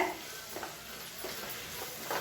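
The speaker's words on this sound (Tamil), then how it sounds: "இது எல்லாத்தையும் நல்லா வதக்கி விட்டுக்கலாம்." A spiced masala with blended tomatoes is stirred and sautéed in a pan for a broad bean curry, a continuous close sizzle and hiss with soft scraping pulses from the stirring.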